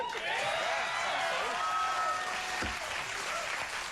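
Studio audience on a late-night talk show breaks into dense, sustained applause that fills the whole stretch at steady loudness, with faint voices and a brief whistle-like tone threading through the clapping.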